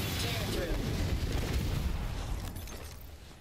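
A thermite grenade in Apex Legends goes off with a loud, broad roaring burst that fills the first seconds and then slowly fades, with speech faintly mixed in.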